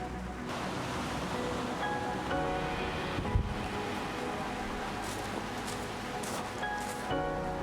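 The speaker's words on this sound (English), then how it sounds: "Oh my God, I see waves. Oh, what a great sound." Ocean waves wash onto the shore in a broad, steady roar with slight surges, mixed with some wind noise on the microphone and no talking.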